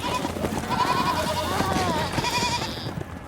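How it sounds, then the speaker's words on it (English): Spooked goats bleat loudly and repeatedly at close range, their wavering cries overlapping in a continuous, agitated chorus. "The spooked goats ran past Zagreus."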